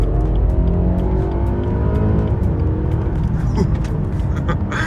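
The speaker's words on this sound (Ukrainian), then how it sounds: "відпускаєш гальмо і машина має взлетіти" A BMW F-series car engine roars loudly and steadily as it accelerates hard using launch control, a deep sustained rumble close by with faint tire noise.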